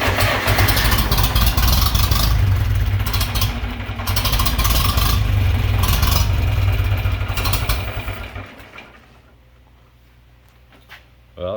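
A John Deere 3020 LP tractor engine, newly fitted with a new head, cranks and starts with no choke, then runs in a loud, steady, rumbling idle for several seconds before cutting off abruptly into near silence.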